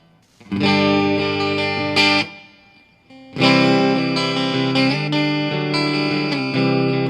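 Guitar riff played through an Orange Crush Pro CR120 amp with plate reverb: two loud phrases of ringing chords and notes separated by a short pause, with the reverb tail washing between them.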